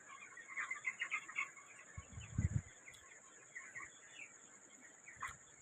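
Chickens in a poultry shed cluck and murmur faintly over a steady high electrical whine from running fans, with a brief low thump partway through.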